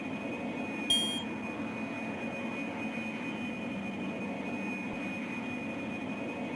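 A steady airliner cabin drone in the Pink Panther's Passport to Peril video game, a low engine hum with a thin high tone running throughout, plus a short electronic chime near the start.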